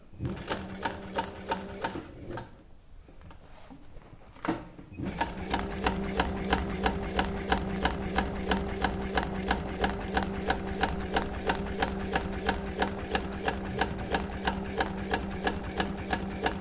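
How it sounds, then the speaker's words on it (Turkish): Voltex saddlery sewing machine with a speed-adjustable electronic needle-positioning motor, stitching with a steady rapid mechanical clatter that briefly slows and pauses, then resumes at a fast even rhythm close by. "Makinamızın özelliklerinden bir tanesi iğne pozisyonlu elektronik motor var hız ayarlı."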